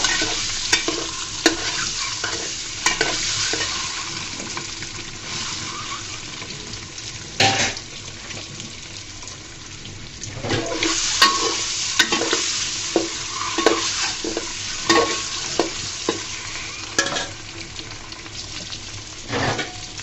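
Eggs frying in a pan give a steady sizzle, with frequent clinks and scrapes of stirring and pan handling throughout. The sound is close and moderately loud, with no talking.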